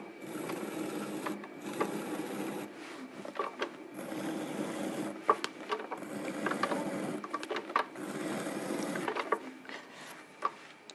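A trimming tool scrapes a 30 cm clay plate turning on an electric pottery wheel. A steady mechanical whir runs throughout, with rough, rasping scrapes rising and falling close by and no talking.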